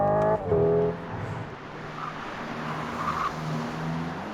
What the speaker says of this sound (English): It's actually mimicking the limiter of a petrol engine.